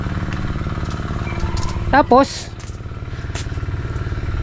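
A kulong-kulong, a motorcycle with a sidecar, runs with a steady low rumbling engine throughout, while a person speaks briefly over it partway through.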